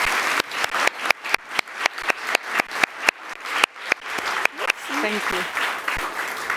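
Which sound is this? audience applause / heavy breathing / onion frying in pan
audience applause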